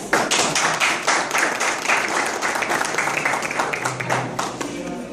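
A stand-up comedy audience breaks into sustained applause to welcome comedian Carlos Morales, with dense, crisp clapping filling the room loudly and evenly throughout.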